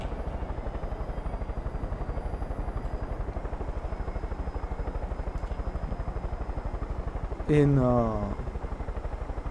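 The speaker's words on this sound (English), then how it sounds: "I never fly a helicopter in this game before." Helicopter flying in the video game Far Cry 5, with a steady, fast rotor chop that continues throughout at an even level. A short burst of louder sound comes near the end, and a voice is briefly heard.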